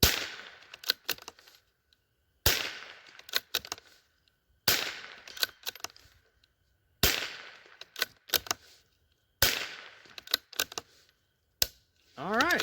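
Howa M1100 .22 LR rifle fired with CCI standard ammunition at about 110 yards without a scope, giving five sharp cracks spaced a couple of seconds apart, each followed by clicks and rattles of the action being cycled.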